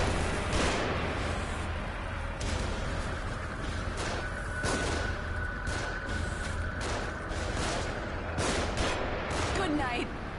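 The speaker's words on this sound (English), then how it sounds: "They're shooting from above." Enemy gunfire in The Evil Within, a dense fusillade of repeated shots and bursts running steadily throughout with game effects mixed in.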